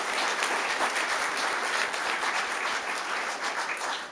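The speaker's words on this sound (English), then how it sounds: "So a round of applause for Officer Garrett Burton and Luke Dusler." Audience applause at a fire department awards ceremony, a steady wash of many hands clapping throughout, fairly loud and close with no talking over it.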